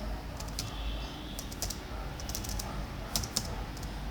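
Rapid typing on a computer keyboard while entering product names into an Excel 2010 spreadsheet, an irregular run of close, crisp key clicks with brief pauses and a couple of louder taps near the end.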